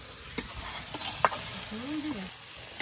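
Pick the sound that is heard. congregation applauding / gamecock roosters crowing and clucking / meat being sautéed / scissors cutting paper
meat being sautéed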